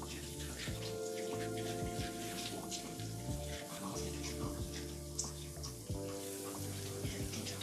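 A dog rinsed with hose water in a tub, with a continuous close spray and splashing running throughout, steady and fairly quiet, with faint brief voices in the background.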